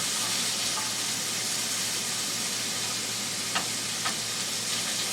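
Ground beef frying in a pan as it is broken into chunks, making a steady, dense sizzle close by with a few faint scrapes of the spatula and no talk.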